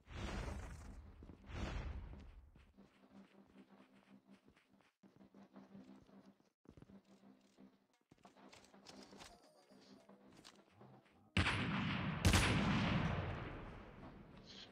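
Sniper rifle shots ring out in a mobile shooter video game: a loud shot at the start, lighter game clatter and movement in between, then a heavy, booming burst near the end.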